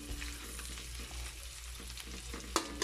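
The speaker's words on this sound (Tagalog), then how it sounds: "mas masarap siya pag pinirito mo muna bago mo igisa" Dried anchovies (dilis) fry in a pan, giving a steady, dense sizzle throughout with a sharp clatter near the end.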